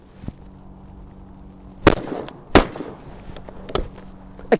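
An old English gun being fired outdoors, several sharp loud cracks spaced a second or so apart over a quiet low background hum.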